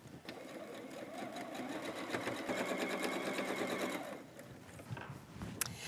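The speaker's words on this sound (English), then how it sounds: "so now I'm going to sew it right here to the side of our teapot." A sewing machine runs steadily for about four seconds, stitching a quilt block to a teapot piece for a whimsical throw quilt, with a fast, even mechanical rattle close by, then stops into quiet room noise.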